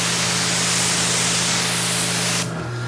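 A pressure washer with a 40-degree nozzle rinses a car in a steady, loud broadband spray that runs without a break, then cuts off near the end, leaving a low motor hum.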